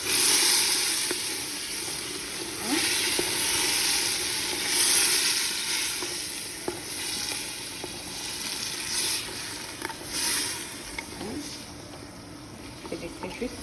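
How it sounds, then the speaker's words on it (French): Hot water poured into a pan of quince and okra tagine and stirred, a broad hissing bubble and sizzle throughout with occasional spoon knocks against the pan, close and fairly loud. "Et je vais ajouter de l'eau, bien sûr, chaude. Je vais mélanger ça déjà."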